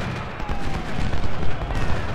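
Cannons fire in an American Civil War battle in the Ultimate General: Civil War strategy game. A dense, rumbling barrage of overlapping booms rolls on continuously, loud and close.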